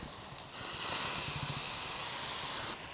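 Chili powder, Kashmiri chili and yogurt hitting a hot pan for Kathiawadi stuffed chili curry, giving a sudden steady sizzling hiss that holds for about two seconds and then cuts off, with soft clatter at the start.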